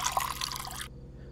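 Water pours into a cup from a tap inside a horror video game, a brief trickling splash lasting under a second before cutting to quiet room tone.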